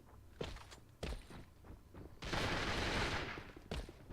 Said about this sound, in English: we hear some shots being fired